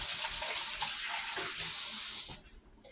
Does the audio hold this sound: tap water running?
yes